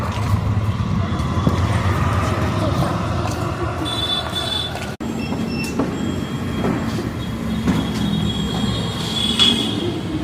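A metro train at a station rumbles and rolls steadily nearby, with faint wheel squeals and clatter throughout, fairly loud and continuous, with some voices under it.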